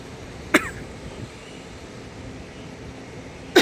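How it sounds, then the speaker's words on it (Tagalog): Two sharp, close coughs, one early and one at the very end, separated by a stretch of low, steady background hum. "May ubo pa rin akong konti"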